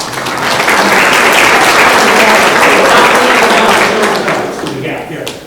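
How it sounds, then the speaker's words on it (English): Sustained applause from a room full of people at a Lions club Melvin Jones Fellow awards presentation, dense clapping that swells quickly, holds steady and thins out near the end. "Give yourselves a round of applause"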